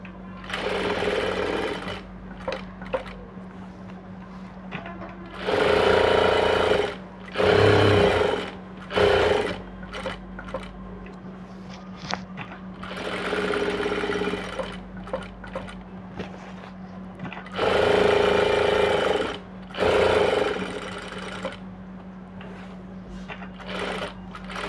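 A sewing machine stitches lining cloth onto an aari net blouse in several loud running bursts separated by short pauses, close up, with a steady hum between runs.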